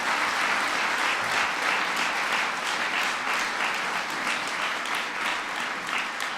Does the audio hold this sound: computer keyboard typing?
no